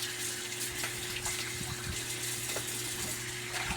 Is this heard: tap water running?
yes